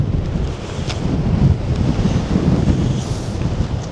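Strong wind buffets the microphone in a constant low roar, loud and close, with no voices.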